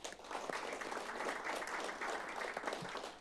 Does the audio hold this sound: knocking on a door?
no